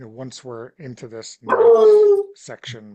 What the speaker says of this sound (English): that was a dog was barking